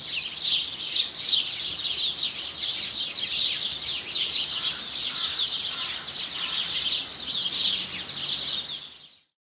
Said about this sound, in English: you can still hear those birds